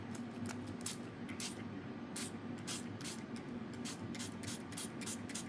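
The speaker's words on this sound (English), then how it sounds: "I'm just going to have to, like, take one for the team here and spritz, even with the blob." A spray bottle spritzes water onto dry pigment in a junk journal craft, giving a run of about a dozen short, close pump hisses in a fairly steady rhythm over a low background hum.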